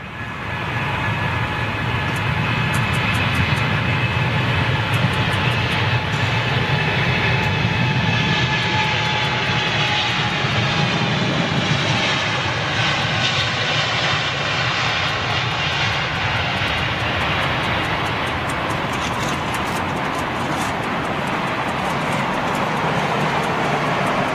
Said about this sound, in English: A380 landing 27 left